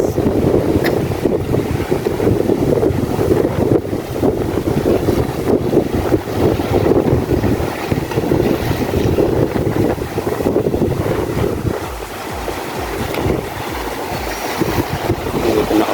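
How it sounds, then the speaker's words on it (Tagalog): Strong wind-driven waves crashing against the Masinloc baywalk, a continuous heavy roar with wind buffeting the microphone, steady and loud for most of the stretch before easing slightly near the end. "Lakas talaga ng alon. Kasi mahangin kasi."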